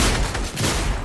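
Rapid gunfire in a squads shooter video game, a loud dense volley of overlapping shots filling a short burst with no talk.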